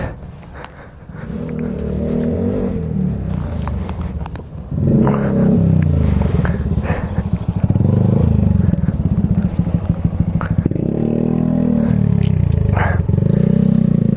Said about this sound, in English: Let's go for a cruise, see how it sounds.